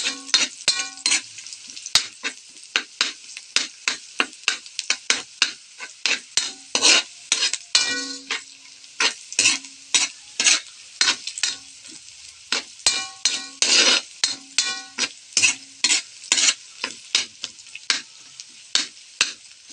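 Ground chicken frying in a pan for vegetable lumpia filling, stirred with a metal utensil in steady repeated scrapes and clinks over a constant close sizzle, no voices.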